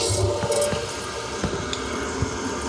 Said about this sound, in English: I'm going to turn on the water, and we're going to hear a rush.